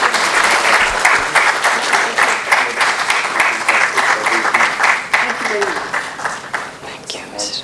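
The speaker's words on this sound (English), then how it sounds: "A round of applause." Audience applause fills a panel discussion hall, steady dense clapping from a crowd that stays loud throughout and fades slightly at the end, with faint voices mixed in.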